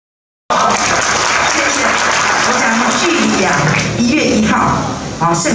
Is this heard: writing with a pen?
no